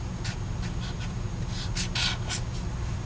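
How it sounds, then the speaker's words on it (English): A pen scratches out a handwritten answer, the fraction 1/2 for a probability problem, in a quiet room: a series of short, crisp stroke bursts that grow denser toward the end, with no talking. "I would just write the number 1/2"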